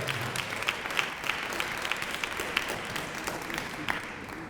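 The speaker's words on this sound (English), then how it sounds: "so a round of applause for them" Audience applause fills an awards ceremony hall, a steady dense wash of many hands clapping from start to finish at even loudness, with no voices over it.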